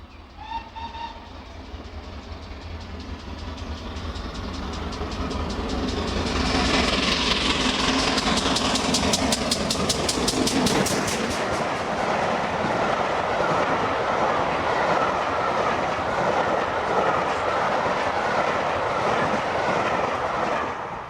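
The steam locomotive King Edward I runs at speed on the line between London and Bristol, a loud, steady roar and rhythmic rail clatter that builds and holds, with a rapid beat of exhaust chuffs midway.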